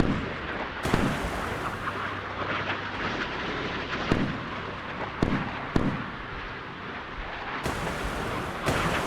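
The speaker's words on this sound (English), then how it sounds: "is the coastal artillery engaging the Tomahawks?" Coastal artillery in the video game Sea Power firing at Tomahawk cruise missiles, heavy booming reports repeating at irregular intervals over a constant low rumble, loud and fairly close.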